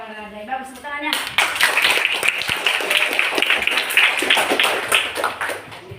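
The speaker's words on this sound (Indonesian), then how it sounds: "Bagus, tepuk tangannya." Schoolchildren in a classroom break into rhythmic group clapping right after a teacher's voice, a dense, fairly loud patter of many hands that continues to the end.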